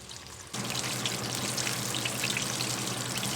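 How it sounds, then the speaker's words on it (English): Chicken sizzles and crackles loudly frying in hot oil, a dense continuous frying hiss that starts abruptly after a short quiet moment. "So we're just going to continue frying this"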